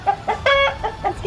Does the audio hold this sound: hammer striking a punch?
no